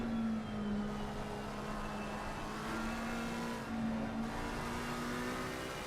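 Race cars, among them a McLaren, in the racing game Assetto Corsa Competizione at the Nordschleife, with a steady engine drone that rises slowly in pitch, heard alone at moderate level.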